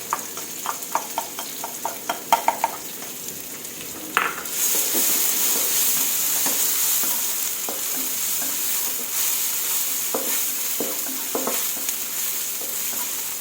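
Chili stir-fried with pork in hot oil: a run of sharp utensil taps against the pan gives way to a loud, steady sizzle when the chilies hit, with stirring scrapes clattering through it, close up.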